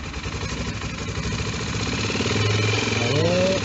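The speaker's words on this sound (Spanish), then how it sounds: "apenas toca el acelerador ya se le va mucho de vuelta" An old carbureted car engine runs close and loud, idling with a steady low rumble and then climbing in pitch as the throttle is blipped near the end.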